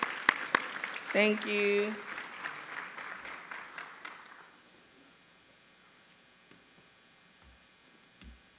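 Audience applause for a school board member at a school district's state of the schools address, loud clapping that swells, is briefly overlapped by a voice and a cheer, then fades over several seconds into near silence.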